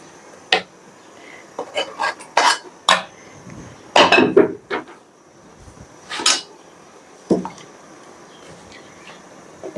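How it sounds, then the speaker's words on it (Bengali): Cooked beef goes into a pot of biryani rice with a run of metallic clinks, taps and scrapes from a spoon against the pot, uneven and close, with a faint hum behind. "রান্না করা মাংসগুলো দিয়ে দিব।"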